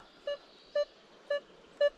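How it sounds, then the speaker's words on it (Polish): Four short electronic beeps at a steady pace, each a clear mid-pitched tone like a metal detector's signal, over faint background hiss. "jest sygnał"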